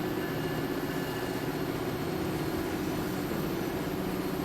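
A steel freight train running in the Transport Fever 2 game, rendered as a constant low engine drone with a steady hum and even loudness, no voices over it.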